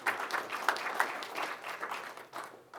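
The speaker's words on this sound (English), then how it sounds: "let's give Fawn a round of applause for the presentation" A convention audience gives a short round of applause after a smart-cities presentation, dense broadband clapping that swells and thins over a few seconds before fading out.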